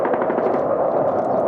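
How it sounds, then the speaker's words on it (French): Heavy anti-aircraft gun fire during an air attack in Libya, a dense, continuous roll of rapid loud shots with no pauses across the whole stretch. "peut-être un canon de DCA"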